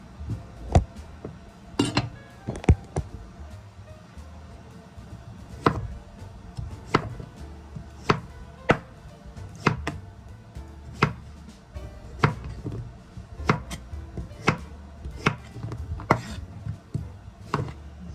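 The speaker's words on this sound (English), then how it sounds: "Cut it down the middle." A knife chops vegetables on a cutting board for a vegetable curry stir-fry, giving a steady series of sharp, close taps spaced about a second apart with small irregular gaps.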